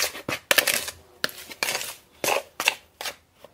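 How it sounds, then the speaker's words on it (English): A spoon stirs a dry shortbread crust mix with ground cinnamon in a bowl, making a series of short, uneven scraping and clinking strokes close by. "I'm just going to stir that all around in my bowl"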